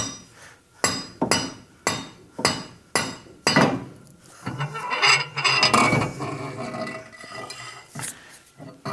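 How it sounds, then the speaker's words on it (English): Metallic clanks and knocks from removing the axle shaft out of a Ford 9-inch rear end. About eight sharp, evenly spaced strikes come first, followed by denser scraping and clattering of the shaft. The work is close and fairly loud, with no talking. "we'll get the axle shaft out"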